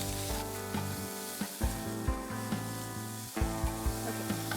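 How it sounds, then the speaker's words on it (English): Ginger garlic paste sizzles in a hot pan as it is stirred, with steady frying hiss punctuated by repeated scraping strokes, loud and close, under music-like steady tones throughout. "Now I'm going to add some ginger garlic paste, just a little bit. And just stir it right away"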